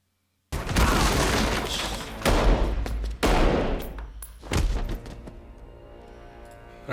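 Gunfire from the first episode of Secret Invasion erupts in loud, sharp bursts with heavy booms, several volleys separated by brief gaps, and the last one decays into ringing.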